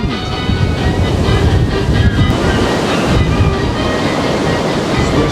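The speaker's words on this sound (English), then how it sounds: "the wind!" Strong wind blasts across the flooded Somerset Levels at West Sedgemoor, a loud, unbroken roar battering the microphone throughout, with no speech.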